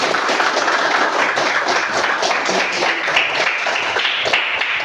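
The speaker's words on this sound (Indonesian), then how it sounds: "Tepuk tangan buat kelompok." Classroom applause for a student group: steady dense clapping from many hands filling the whole stretch at even loudness, with scattered taps and thuds.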